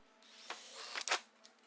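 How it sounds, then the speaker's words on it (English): A drill bores a pilot hole in a thin aluminum ceiling tile, with a brief whirring run followed by a few sharp scraping and clicking bursts, faint and close. "Drill a pilot hole with my drill so that I've got something from my oscillating tool to grab."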